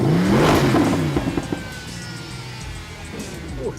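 A Mercedes SLS sports car pulls away from the pits at Laguna Seca raceway in Monterey, California, its engine rising loudly at the start before settling into a steady, close drone with whirring tones.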